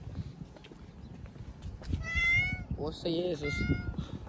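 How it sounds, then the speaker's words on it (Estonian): Cats in Egypt meow in a few harmonic, strained calls, one drawn-out cry followed by another wavering one, close by over outdoor background noise, with a person's brief exclamation. "Egiptuse kassid näevad kuidagi jube metsikud ja sellised jõulised."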